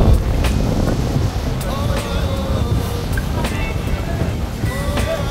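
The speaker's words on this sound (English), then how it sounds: "It's very windy, but I hope you can hear me." Heavy wind buffets the microphone at a luxury hotel in Diani, Mombasa, Kenya, with a constant low roar and rumble, broken by a few faint clicks and knocks.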